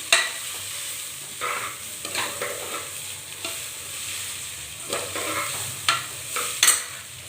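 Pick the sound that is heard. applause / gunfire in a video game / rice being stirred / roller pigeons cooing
rice being stirred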